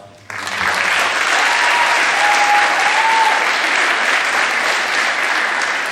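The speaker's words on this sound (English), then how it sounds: "I think she deserves a big round of applause." A big round of applause breaks out at a school awards ceremony, starting abruptly after a brief pause and continuing as even, full crowd clapping with a faint whistle-like tone partway through.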